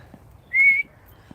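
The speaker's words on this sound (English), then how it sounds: "I'm whistling a deaf dog." A single short whistle on one steady pitch, clear and close, made by a person calling a deaf dog during a springtime walk in North West England, with faint background outdoors.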